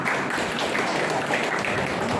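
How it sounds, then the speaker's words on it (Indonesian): An audience at an alumni gathering applauding, a dense, steady wash of many hands clapping at even loudness throughout, with no voice standing out. "tepuk tangan"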